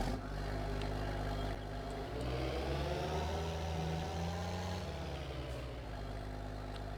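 A tractor engine idles and hums steadily in the Farming Simulator 22 game, a low droning rumble with slight shifts in pitch, heard alone without speech.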